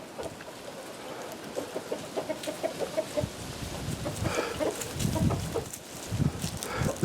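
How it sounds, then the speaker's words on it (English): Silkie and large white chanticleer hens feed on pieces of spaghetti squash, giving soft, scattered clucks and pecking sounds at moderate distance over a low background. "I split it up into pieces, and my hens are enjoying it"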